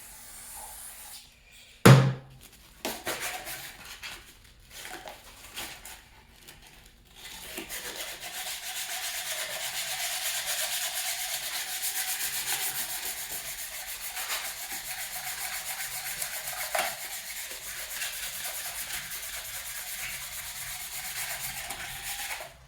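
Steady hand sanding with 320-grit sandpaper on a part from a 1999 Ford Mustang Cobra, a continuous close scratchy rubbing that settles into an even, sustained hiss after a few brief knocks and shuffles.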